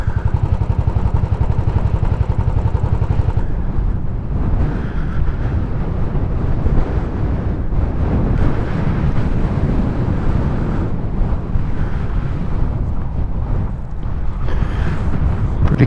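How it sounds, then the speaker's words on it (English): Strong wind at Millook Haven beach buffets the microphone in a steady loud rumble for the whole stretch, with surf washing faintly underneath and no one speaking. "God, it's breezy."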